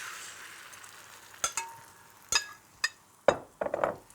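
An egg and potato-crisp tortilla mixture goes into a hot, preheated frying pan, making a rising sizzle along with several sharp clinks and scrapes of utensils against the pan, close and clear, without speech.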